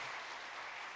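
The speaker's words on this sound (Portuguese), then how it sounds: "Dá um aplauso aí para acordar o que está do lado aí." A church congregation applauding, steady dense clapping filling the whole moment at moderate distance, with no voices standing out.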